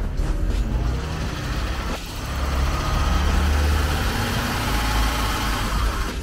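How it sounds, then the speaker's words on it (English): A broken-down van with a transmission leak idles at night in Colombia, a steady low engine rumble that swells slightly as a little gas is given, close and continuous without talk. "gonna try giving it a little gas"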